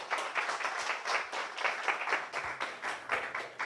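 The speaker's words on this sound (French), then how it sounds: "Merci d'applaudir, Marie." An audience at a design talk claps for a speaker, with dense applause swelling in repeated rhythmic bursts, moderately loud and with no talk over it.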